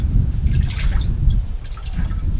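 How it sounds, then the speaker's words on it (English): Excess water drips and trickles from freshly dandelion-dyed yarn as it is gently squeezed by hand, a steady low wet patter that runs continuously without speech. "you're squeezing out the excess water"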